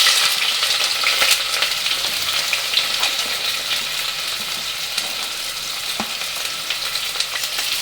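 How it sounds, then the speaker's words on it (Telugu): Chopped onions and green chillies frying in hot oil for mutton keema biryani, a dense, continuous close sizzle with occasional faint stirring clicks and no voices. "ఈ ఉల్లిపాయలు మంచి రంగు వచ్చే వరకు వేయించుకోవాలి."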